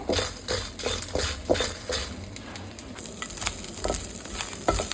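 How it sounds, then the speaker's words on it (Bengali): Dried loitta fish (Bombay duck) fries in hot oil with a loud, close sizzle, broken by rhythmic bursts of stirring and scraping in the pan. No voices are heard. "তাকে বেশ ভালো করে ভেজে নেব"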